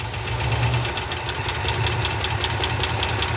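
A Ford F-250 truck engine, abandoned for 21 years, idles steadily at close range, a low continuous rumble with a faint ticking knock running through it.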